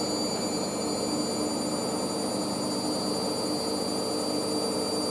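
A new washing machine on a wash spin at about 800 RPM, a steady, loud whirring drone with a high constant whine, continuous and unchanging.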